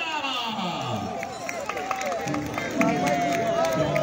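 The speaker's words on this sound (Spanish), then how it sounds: "Los aplausos para Chichimara." A crowd at a dance competition claps and cheers, with steady applause and babbling voices throughout, growing a little louder near the end.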